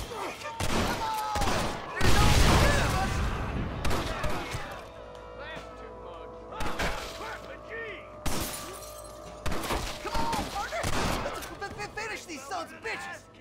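Rifle fire and bursts of gunfire in the Western video game Red Dead Redemption, sharp shattering cracks and impacts scattered through a busy game mix, with a voice talking over much of it.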